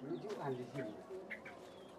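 Doves coo softly at a bird breeder's place in Indonesia, their low calls mixed with faint chirps under nearby conversation.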